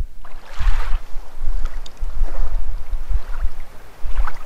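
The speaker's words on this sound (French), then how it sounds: "on entend déjà cette ambiance de petites vagues qui donne un côté réaliste" Small waves lap gently at a shore, soft irregular swells of water with low rumbling surges and a light breezy hiss, close and fairly loud, with no voices.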